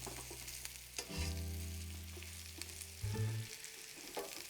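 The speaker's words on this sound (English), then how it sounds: "you're getting a sizzle in the pan" Hen of the woods mushrooms sizzle steadily in a hot frying pan, a continuous close crackling hiss with a few brief tonal clinks of tongs against the pan, no voices.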